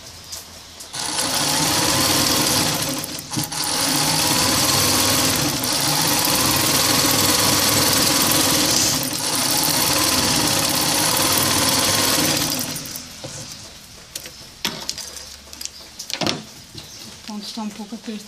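A domestic sewing machine runs in long continuous bursts while stitching an envelope-style pillowcase, with brief pauses between runs; afterwards the motor stops and someone speaks over light handling noises.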